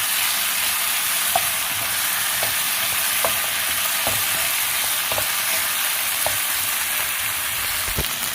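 Chicken frying in a pan with ginger and garlic paste, a steady close hiss and crackle of hot oil with light stirring taps through the whole clip.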